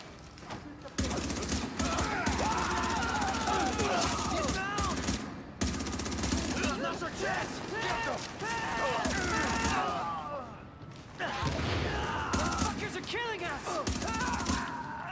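Rapid automatic gunfire from The Division 1 crackles in long sustained bursts with brief gaps between them, loud and close, while a player talks over the shooting.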